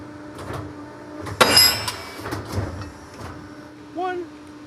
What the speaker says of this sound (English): let's just pop those, and then I'll show you how to broach it. Yeah, it's a Piranha iron worker.